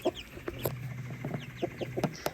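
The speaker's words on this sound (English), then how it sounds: "I think I can get you a really good video of the baby chicks now." Baby chicks on a homestead cluck and peep in short, scattered bursts at close range, with a steady low hum underneath and no talking.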